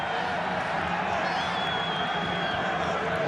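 A stadium crowd at an A-League football match between Wellington Phoenix and Melbourne City murmurs and rumbles steadily in protest after a foul, with a whistle-like tone and commentary voice over it.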